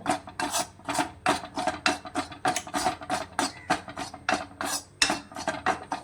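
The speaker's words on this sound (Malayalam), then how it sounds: "ഇവ നല്ലതുപോലെ വറുത്തെടുക്കാം" Chili, turmeric and coriander powder are dry-roasted in a pan for fish curry, heard as a loud, rhythmic rasping scrape of a spatula working back and forth across the pan bottom, close and continuous.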